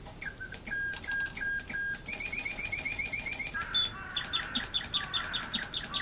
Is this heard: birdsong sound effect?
yes